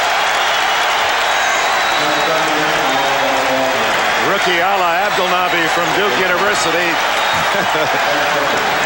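Arena crowd applauding at a 1991 Trail Blazers–Lakers playoff game, a broad steady wash of clapping and crowd noise under continuous commentator speech.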